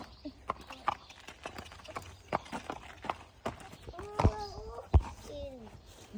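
A horse walks with a steady series of clip-clop hoof steps nearby, while a person and someone talk over the hooves.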